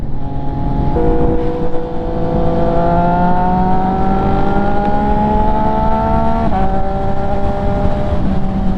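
A KTM motorcycle's engine drones loudly and steadily, its pitch climbing gradually as it revs, with a brief gear-change dip before rising again, close and continuous throughout with no talk.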